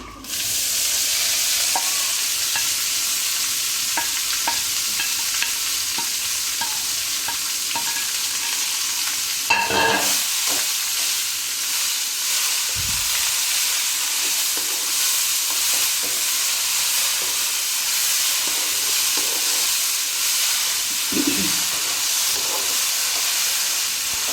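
Chopped leaves frying in oil in a pan, a loud continuous sizzle and hiss with occasional scrapes and knocks of a stirring spoon, close up and steady throughout.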